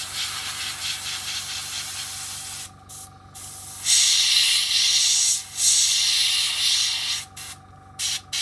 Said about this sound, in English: I'm just pushing down so the air comes out, helping dry the area I've just painted